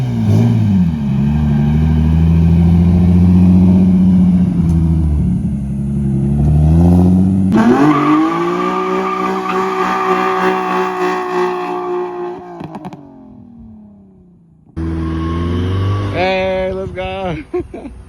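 Nissan 350z roll racing on the street: engine revving hard in long pulls, pitch climbing and dropping through shifts, a sudden cutoff, then another loud burst of acceleration, with brief voices in between.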